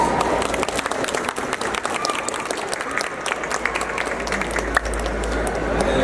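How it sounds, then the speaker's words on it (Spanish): Strong audience applause at a book presentation, steady dense clapping from a seated crowd filling the whole stretch, with a low rumble building underneath toward the end and no clear talk. "por favor, recibámoslo con fuertes aplausos"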